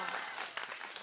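Korean lecture audience applauding for a comedian who placed first in an intern comedian exam, a dense steady wash of many hands clapping, fairly close, lasting about a second.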